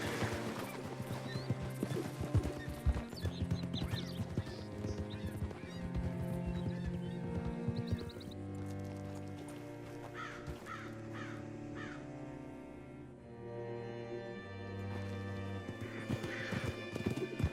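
Horse hooves clip-clop steadily in Red Dead Redemption 2, with a whinny and cawing birds over a continuous game soundscape, close and fairly loud throughout.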